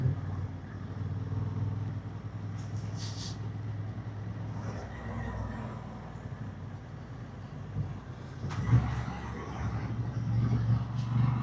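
A 2026 Honda Hornet 750 with E-clutch rolls slowly through town at around 20, its low engine hum steady under wind buffeting on the microphone, swelling slightly near the end.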